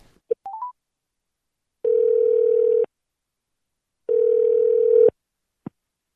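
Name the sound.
telephone call connecting, dial tone for a radio phone interview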